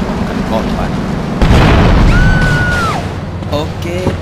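Grenade blast destroying vans in GTA Vice City Stories, heard as a sudden loud boom that swells into a sustained rumbling roar amid busy game effects, with voices present over the mix.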